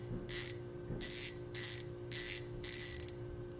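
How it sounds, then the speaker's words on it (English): A GearWrench 84-tooth, 11-inch long-pattern ratchet clicking in five rapid buzzing bursts, close and crisp over a steady low hum. "This is the 11 inch or the long pattern ratchet."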